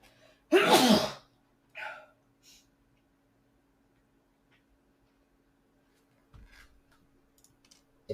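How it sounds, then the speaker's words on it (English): A character in the video game Out There: Oceans of Time lets out a single loud, sharp sneeze, followed by a couple of short softer vocal sounds and then near silence with faint clicks. "That was a mighty sneeze."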